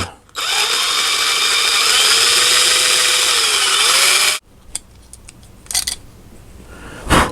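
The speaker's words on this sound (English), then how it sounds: "first thing we need to do here is drill this sucker out" A power drill with an 11/64 bit whines loudly and steadily for about four seconds while drilling out a small rivet on a die-cast toy car, then cuts off, followed by a few faint clicks and taps.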